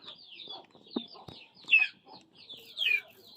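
Rhode Island chickens in a backyard flock clucking and chirping nearby, with short repeated calls and a few louder squawks, plus faint knocks in the background.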